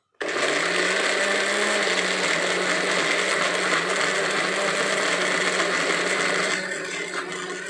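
Kitchen blender whirring continuously as it blends spices with a little water, a loud steady motor roar starting abruptly and easing slightly in the last second, close by with no talk.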